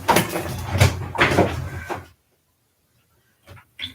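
A house's front door swings open in cold weather, a rough scraping rush for about two seconds, then near silence broken by a couple of faint knocks and clicks.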